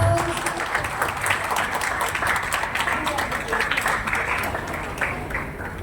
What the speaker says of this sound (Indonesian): kita berikan tepuk tangan yang meriah untuk Bruder Agus